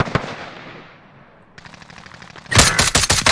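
Large-caliber gunfire in Warzone, sharp close shots that start the burst, a quieter stretch of distant cracks, then a loud rapid automatic volley in the final second.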